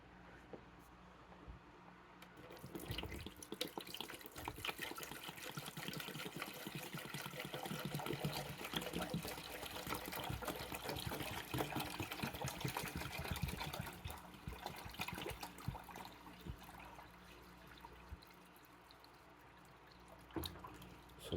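Liquid plant food poured from a gallon container into a hydroponic unit, a soft continuous trickling and splashing that starts after a quiet moment and runs steadily, fading toward the end.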